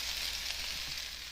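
Diced potatoes and green chilies fry in a pan with ground beef set aside, a steady, close, even sizzle with no talk over it.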